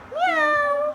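A cat gives a single clear meow, close and fairly loud, rising briefly and then holding a drawn-out tone for under a second, with no talking over it.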